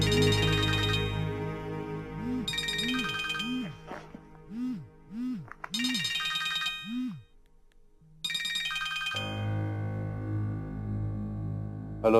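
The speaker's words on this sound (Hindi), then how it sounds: "आई एम सॉरी सलमान, तुम्हें शायद मेरा इस वक्त फोन करना अच्छा ना लगा।" A phone rings for an incoming call in a drama scene: a melodic ringtone plays in repeated bursts with short gaps, clear and close, with no voices over it.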